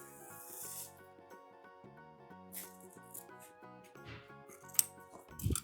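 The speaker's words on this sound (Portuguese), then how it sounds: "eu corto o acabamento seguindo a parte do chanfrado aqui" Scissors cut along the beveled edge of fabric trim on a children's car organizer, giving a faint, steady snipping and rasping close by, with a soft rustle of handling at the end.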